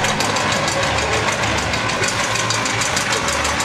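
A toy train's motor gives a steady, loud mechanical whirring hum without a break, chugging along.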